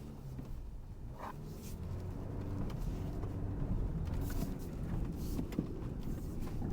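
A hybrid Toyota Land Cruiser drives over sandy terrain in sand mode, its engine and tyres producing a steady, close low rumble that slowly builds in loudness, with light rattles from the cabin and no talking.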